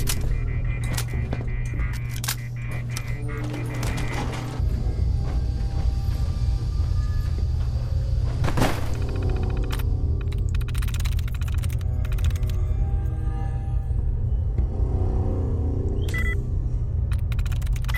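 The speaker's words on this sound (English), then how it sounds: "Let's go up the elevator." Steady low mechanical rumble of an elevator ride in the video game Fallout 4, a constant hum with faint clanks and clicks over it, running continuously without talk.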